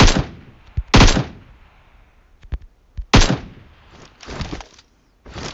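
Gunfire from the mobile game PUBG Mobile: loud, sharp shots and short bursts come in irregular clusters, with fading echoes between them.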